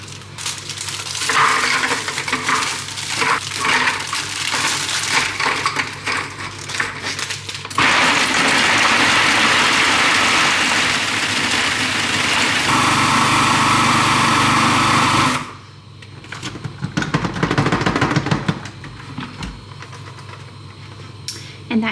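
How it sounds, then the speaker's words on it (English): A food processor crushes two packets of Murray biscuits into fine crumbs, whirring and rattling in several loud bursts separated by brief stops, with a long steady grinding stretch in the middle. "I'm going to crush up 2 packets of the Murray biscuits"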